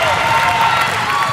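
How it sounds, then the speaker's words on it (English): A crowd at a high school basketball game roars and claps right after a three-pointer, a dense, loud, continuous wash of cheering and applause. "The reaction from the crowd tells you all you need to know about that one."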